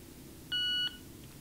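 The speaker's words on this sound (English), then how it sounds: "So I'm going to turn on the player now." Power-on beep from a Victor Reader Stream New Generation audio book player: one steady electronic tone lasting about a third of a second, clear and close over a quiet background.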